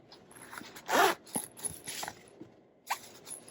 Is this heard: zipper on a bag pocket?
yes